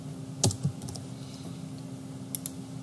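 Computer keyboard typing, a few quiet keystrokes clicking near the microphone against a steady low hum.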